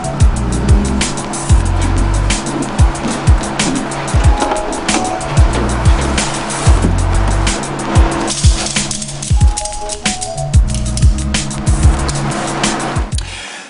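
A car engine is run hard on a rolling road dyno during tuning. Its loud, harsh roar cycles through repeated rev sweeps with sharp bursts and pops, close and continuous across the whole stretch.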